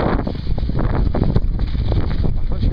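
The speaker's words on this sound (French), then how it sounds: "Par contre je suis contre le vent là" Strong sea wind at the beach at Port-de-Bouc near Fos-sur-Mer buffets the microphone, a loud continuous roar with gusty flutter throughout.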